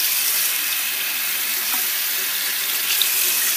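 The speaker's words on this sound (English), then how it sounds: "I like to turn the hot water all the way on, and then I turn the cold water" Water runs steadily from a tap turned fully on hot with a little cold, a constant hissing rush at close range with no break and no voices.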